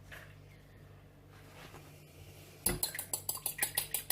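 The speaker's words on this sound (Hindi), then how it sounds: "एग जो है उसको अच्छे से हमें बीट कर लेना है" A fork beats a single egg in a bowl for a tempura batter, starting after a quiet stretch with a rapid, steady run of bright metallic clicks against the bowl. No one speaks.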